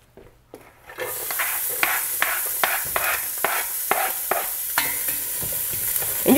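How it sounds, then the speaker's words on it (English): Onion sautéing in extra virgin olive oil, a loud sizzle bursting in as it hits the pan, then steady frying punctuated by rhythmic stirring scrapes. "you just want to saute the onion for a couple of minutes"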